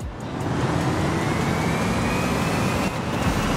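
An electric car in a racing video game launches hard, its motor whine rising in pitch as a steady loud road-and-motor roar builds and holds, with no voices.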